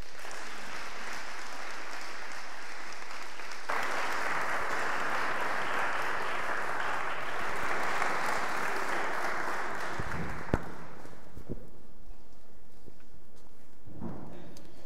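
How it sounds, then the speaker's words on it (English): Applause from a live audience welcoming two guests onstage at a debate on the existence of God, a dense sustained wash of clapping that starts abruptly, holds steady, then thins out and fades near the end. "Please, let's have a round of applause"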